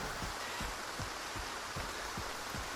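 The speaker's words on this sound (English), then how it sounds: "rain pelted down on Skif as he continued his trek towards his objective." Rain pelting down in the video game S.T.A.L.K.E.R. 2, a steady hiss of dense downpour with faint low rhythmic thuds, like footsteps, beneath it.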